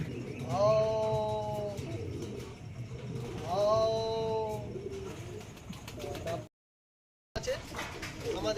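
Pigeons coo on a tin roof in two clear, fairly close phrases of rolling, descending calls, with background murmur and a short dropout near the end.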